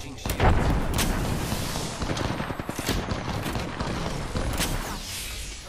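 Frag grenade blast and rapid gunfire in Apex Legends, forming a dense, continuous barrage of loud automatic shots and booms throughout, with voices heard faintly underneath.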